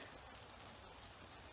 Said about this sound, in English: So it rains again.